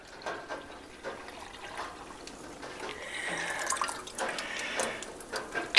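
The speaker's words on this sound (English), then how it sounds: "we're just going to pour it into a big crock pot" Settled apple pectin liquid is poured into a large crock pot, a soft, steady watery splash that grows fuller and louder in the second half, with no talking.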